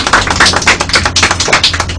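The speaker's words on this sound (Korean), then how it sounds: "박수!" Clapping from a small group of people at a live StarCraft league final broadcast, close and loud, with distinct uneven bursts of hand claps that come in quick irregular clusters rather than a smooth wash.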